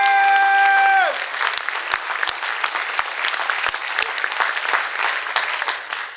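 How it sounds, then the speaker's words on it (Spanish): A church congregation breaks into loud, sustained applause right after a sung or held tone fades, a dense wall of clapping filling the room and continuing to the end. "Dale un aplauso a Cristo Jesús."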